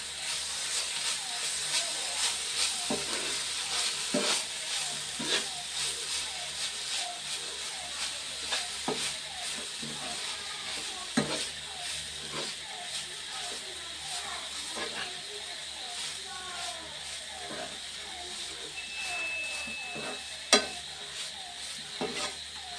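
Vegetables fry steadily in a pan with a continuous sizzle and hiss, broken by occasional stirring scrapes and clinks, close and even throughout with no talking.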